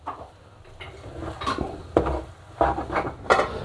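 A spoon mixing aloo anday curry in a pot makes scattered metallic clinks and scrapes against the sides, irregular and close, with quiet pauses between strokes.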